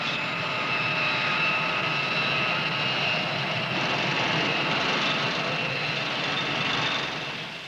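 Jet airliner engines roar at Los Angeles International Airport, a loud, continuous, broad whine and rumble holding steady throughout before tapering slightly at the end, with no voices.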